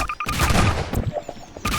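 A burst of rapid gunfire crackles loudly and densely, then tapers into a few scattered shots.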